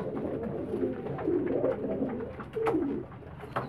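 A pigeon coos in low, rolling throaty phrases, close and clear, repeating several times with no talking.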